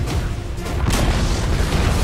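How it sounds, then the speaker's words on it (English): A deep, sustained rumbling boom rolls on steadily as a tower collapses in Dota 2, loud and continuous with no talking over it. "Dire's middle tower has fallen."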